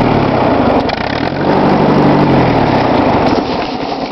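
A 1954 Ford NAA tractor engine runs loud and close with a steady rough idle, its tone dipping and shifting as it is shut down, and no voices over it.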